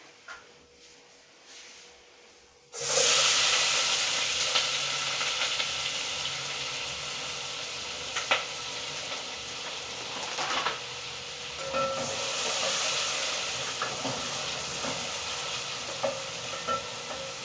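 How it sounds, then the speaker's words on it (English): Onions and garlic hit hot cooking oil for fried rice after a brief quiet moment. A loud, steady sizzle follows, broken by occasional crackles and stirring scrapes. "This is where I am heating my oil. I am going to add my onions and my garlic"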